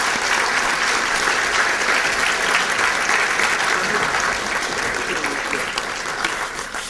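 Audience applause fills the hall to welcome Professor Bernard Lewis before his talk, a steady, dense clapping that holds loud throughout and eases slightly toward the end.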